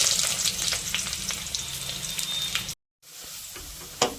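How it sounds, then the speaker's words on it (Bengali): Onions frying in hot ghee and oil for an egg korma, a steady close sizzle that cuts out briefly near the end, then resumes with a sharp clink. "তেল ঘি গরম হয়ে গেছে, এবারে পেঁয়াজ ভেজে নেব।"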